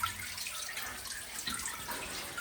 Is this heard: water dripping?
yes